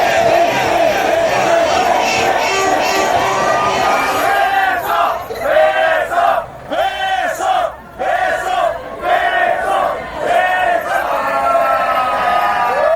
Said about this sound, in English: The whole crowd is rooting for you.